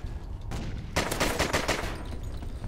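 Pistol gunfire in a Call of Duty Ghosts multiplayer Gun Game match: a first shot, then a quick run of about five rapid, loud, close shots in a tight rhythm.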